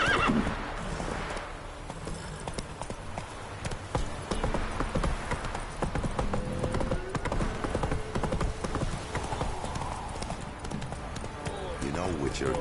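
Roach the horse gallops and neighs in The Witcher 3, with rapid clip-clop hoofbeats running throughout and loud whinnies breaking through, while a voice speaks over the action.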